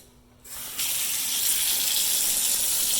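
Cold tap water runs steadily into a kitchen sink while freshly harvested oregano is rinsed, a loud, continuous broadband gush that starts abruptly after a brief quiet moment and keeps flowing alone.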